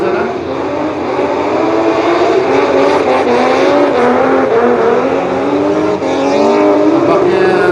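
Drift race cars, among them a BMW chase car, scream through a drift competition round with sustained high-revving engines and sweeping pitch changes, loud and continuous with a commentator talking over them.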